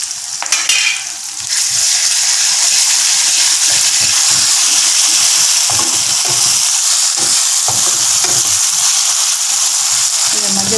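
Ginger and garlic hit hot oil for stir-fried cauliflower, bursting into a loud, steady sizzle after a brief clatter, with stirring scrapes close by and no talk.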